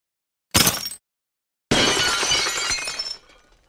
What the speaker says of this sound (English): they identify the sound of breaking glass